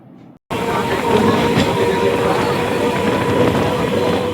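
After a brief quiet start, a loud steady rumble of a moving train fills the clip, continuous clatter and roar from inside the carriage.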